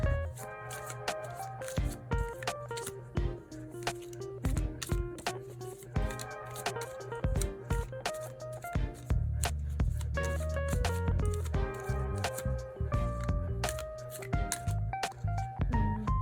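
A tarot deck is shuffled by hand in repeated soft riffling bursts, close up, over faint background music.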